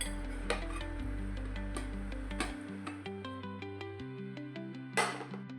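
A plate set over a breakfast pan and the pan flipped produce a string of light metallic ticks and clinks, with a louder clatter near the end, over a faint steady hum in a home kitchen.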